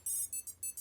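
A Keysmart Pro key finder sounds a high electronic tone triggered from a phone app: four short beeping pulses in quick rhythm, faint and close, with no talk.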